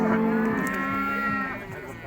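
A bull calf moos loudly and close at the Urzhar livestock market, one long drawn-out call with a falling pitch.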